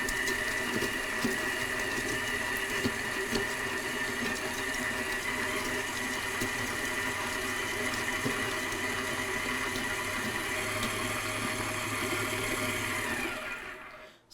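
A Wolf Gourmet 7-quart, 500-watt stand mixer creams ingredients with a steady, even motor whir and a continuous mechanical hum at close range, alone without talk, ending in a quick wind-down.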